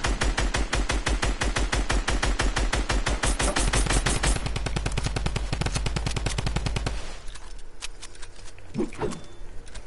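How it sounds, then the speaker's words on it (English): Rapid automatic gunfire from a video game rattles loud and close in a continuous burst for about seven seconds, then cuts off, leaving a few scattered quieter sounds. "Shoot that thing down."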